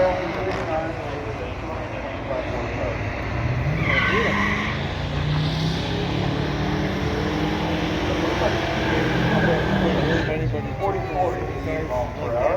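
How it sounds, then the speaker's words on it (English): Drag racing launch between a 1965 Ford Galaxie 500 XL and a 1964 Studebaker Daytona, both four-barrel cars, at a drag strip: loud continuous engine roar and revving with tire squeal, an announcer speaking over it throughout. "with the 65 Galaxie going against Neil Loughlin with his 1964 Studebaker"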